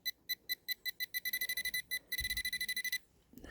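Metal detector sweeping over buried metal, which turns out to be a small piece of wire, gives a series of sharp electronic beeps that speed up into a rapid run, then stop abruptly. Close and loud, with no talking.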